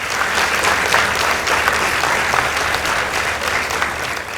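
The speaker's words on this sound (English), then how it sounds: "Let's give them a round of applause." At a school debate contest between Kakamega High School and St. Anne's Musoli Girls, the audience breaks into loud, dense applause that holds steady for over four seconds.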